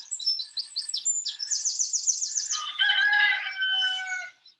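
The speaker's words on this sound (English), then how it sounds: "waiting on the roosters." Roosters crowing in the Palace Gardens at Culross, Scotland, several long crows overlapping one after another, fairly close and clear, with smaller bird chirps in the background.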